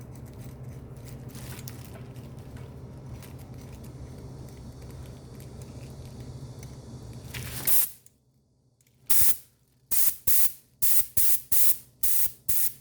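An air spray gun applies dye to leather during restoration, first a long continuous hiss, then after a brief pause a series of short sharp bursts in quick succession, close and loud with no talk.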